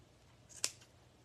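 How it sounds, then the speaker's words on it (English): Scissors snip once through loops of yarn while a round spring ornament is being made, a single short crisp cut in a quiet room. "just put your scissors through all your little loops and cut them"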